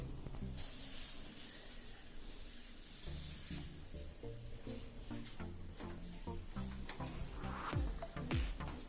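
Gram flour omelette batter sizzles steadily in a hot pan, a continuous close hiss with soft music playing underneath.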